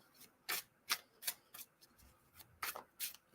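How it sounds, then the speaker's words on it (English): A new tarot card deck being shuffled in a quiet room, with about nine crisp, papery riffling bursts arriving at an irregular pace, close and soft. "You can hear me shuffling the cards."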